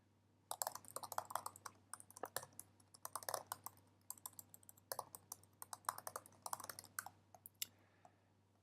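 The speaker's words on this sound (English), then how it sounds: "In this case, I'm just going to write a few words." Fingers type a short text reflection on a computer keyboard, a quiet run of quick irregular key clicks in bursts with brief pauses, close and alone.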